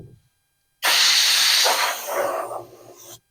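A blast of compressed air blows off a Mustang hood, starting suddenly as a loud, close hiss that holds for over two seconds, wavers in pitch partway through and then stops sharply.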